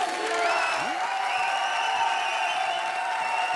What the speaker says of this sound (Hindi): इसलिए जोरदार तालियों के साथ स्वागत कीजिए